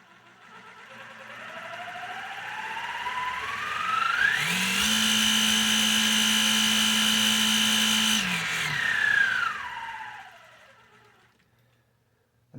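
An Axial Basecamp RC crawler with a HobbyWing Fusion SE 1800KV motor on 2S: a whine that climbs in pitch, holds a steady high electric drone for several seconds, then winds back down, close and loud, with no talking.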